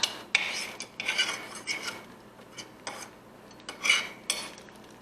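Cooked garlic cloves mashed with a utensil in a crock pot of au jus: a series of short, soft scraping and clinking strokes against the pot at an uneven rhythm, close and fairly quiet.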